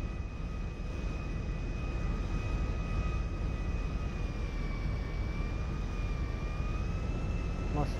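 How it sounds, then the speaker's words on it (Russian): A private plane's engine in the video game GTA 5 drones as a steady, loud, even roar with a faint whining tone held throughout, and no break in the sound. "Ну вот мы взяли частный самолет,"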